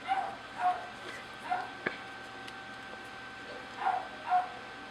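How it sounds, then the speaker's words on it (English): Beagles bark in short yips off in the distance, a handful of separate barks over a steady hum. "they're just staring at each other and barking."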